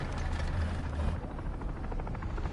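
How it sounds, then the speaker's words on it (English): Helicopter rotor noise in the War Thunder combat game, a steady close throbbing whir with a low thumping pulse, heard alone without talk. "Uh-oh. Helicopters."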